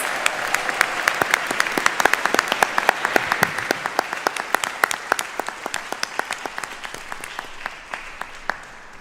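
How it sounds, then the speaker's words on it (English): A room full of people at a music school commencement ceremony applauds steadily, with individual claps standing out, the clapping gradually thinning toward the end. "Let's have another round of applause"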